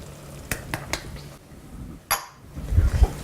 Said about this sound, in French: On remue un peu.